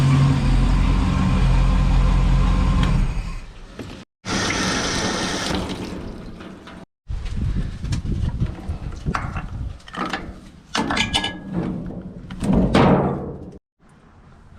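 A 5.7L V8 engine at operating temperature runs with a steady, loud low rumble for about four seconds, then cuts out abruptly. Splashing, gurgling water and clattering handling noises follow, broken by brief pauses.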